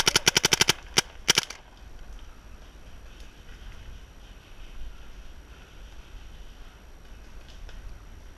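Paintball guns firing during a castle attack in a burst of rapid, sharp pops, followed by a couple more shots, then quiet outdoor ambience.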